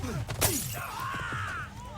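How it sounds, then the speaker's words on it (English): Glass bottles smash together in a Jackie Chan fight scene, giving one sharp, loud crash of breaking glass. A voice cries out and strains just afterward under a busy background. "he's avoiding the conflict by banging them together and breaking the glass in front of them"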